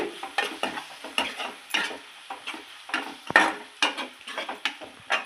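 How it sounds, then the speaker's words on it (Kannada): A spoonful of ginger garlic paste fries in a pan for masala rice while being stirred briskly, giving rhythmic scraping strokes over a continuous close sizzle. "ನೆಕ್ಸ್ಟು ಶುಂಠಿ ಬೆಳ್ಳುಳ್ಳಿ ಪೇಸ್ಟ್ ಒಂದು ಸ್ಪೂನ್ ಇದನ್ನ ಒಂದು ಸ್ವಲ್ಪ ಫ್ರೈ ಮಾಡ್ಕೊಳ್ಳೋಣ"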